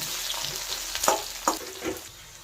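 Onions fry in a pan with a steady soft sizzle, broken by three or four moderate stirring scrapes spaced about half a second apart.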